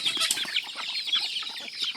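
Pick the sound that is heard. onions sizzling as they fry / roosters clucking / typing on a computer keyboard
roosters clucking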